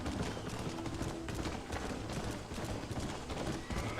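A horse's hooves clip-clop steadily in Red Dead Redemption on Xbox One, a busy rhythmic patter blended with game ambience and outdoor noise throughout.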